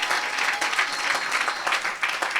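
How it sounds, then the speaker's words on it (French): A church congregation at a Pentecostal-style worship service breaks into lively applause, dense rapid clapping that fills the room at close range, steady and loud throughout. "Est-ce que tu peux acclamer encore pour la grâce?"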